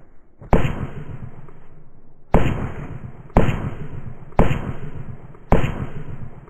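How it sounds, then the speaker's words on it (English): Gunshots fire in the Melon Playground video game as five sharp, loud bangs spaced about a second apart, each decaying quickly into a short tail. "The sound of gunfire."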